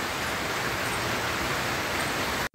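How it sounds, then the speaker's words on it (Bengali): Heavy rain pours steadily, a dense, loud, close hiss that stays constant throughout before cutting off abruptly at the end. "বৃষ্টি আমার মোবাইলে পড়ছে, দেখো বৃষ্টি বেড়ে গেছে"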